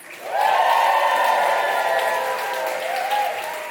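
A New York comedy-club audience breaks into applause for a comedian, with clapping and cheering that rises quickly and holds steady, then eases slightly near the end.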